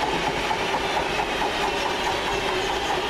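A London Midland Class 323 electric train pulling away from a station in the Birmingham area, a steady mechanical hum and hiss with a faint whine, moderately close and continuous.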